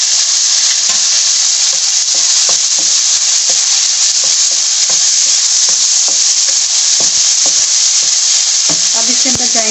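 Tomatoes and garlic paste frying loudly in a pan, a constant close sizzle broken by repeated scraping stirs of the spoon and a brief clatter near the end.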